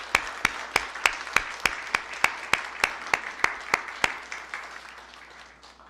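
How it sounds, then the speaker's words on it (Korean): Applause in a church congregation for the ordained deacons: steady, rhythmic clapping with sharp regular strikes over a soft wash of hands, fading out near the end. "안수 집사님들에게 박수하겠습니다."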